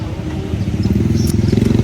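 A motorcycle engine runs close by during a family trip in Bicol, its low, pulsing exhaust growing louder and throbbing more distinctly toward the end.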